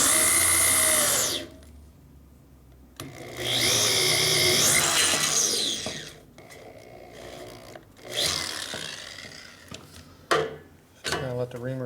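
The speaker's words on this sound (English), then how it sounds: "So kind of let the reamer track its own hole." A hand reamer cuts holes for helicoil inserts in a 1942 Harley-Davidson WLC/WLA 45ci motorcycle frame, giving loud grinding, rasping strokes in bursts separated by short pauses.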